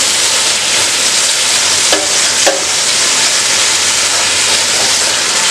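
Tomatoes stirred into garam masala frying in a pan for Malabar fish biryani, a loud continuous sizzle with a couple of brief scraping clinks of the spoon against the pan.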